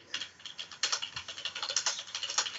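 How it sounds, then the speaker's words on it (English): Loud, rapid typing on a computer keyboard, a dense run of sharp, close clicks of uneven rhythm throughout, with no voices. "You're so loud at typing!"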